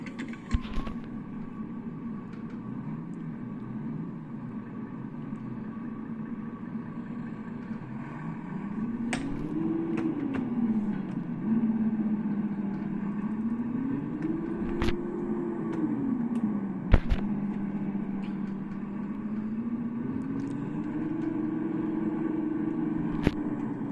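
A truck engine idling and revving in a truck driving video game played with a HORI force feedback control system, a low steady drone that rises and falls in pitch, with occasional sharp clicks and knocks from the controls.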